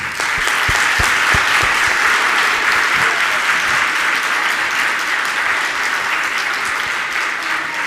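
Loud, sustained audience applause in a large hall at a Jain monk's discourse, in honour of young children from Dimapur: dense steady clapping from a big crowd, unbroken for the whole stretch.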